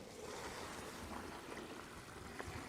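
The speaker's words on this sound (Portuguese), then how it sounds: "e despeja daí os 10 litros de água." Ten litres of water pours steadily into a bucket packed with leaves, a continuous broad rushing splash that stays even and fairly loud for the whole stretch.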